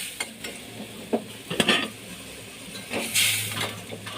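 Spice paste with salt and a splash of water cooks in a pan for a prawn and brinjal mustard dish, with a soft sizzle and hiss beneath intermittent spoon scrapes and taps, close and moderate, no talking.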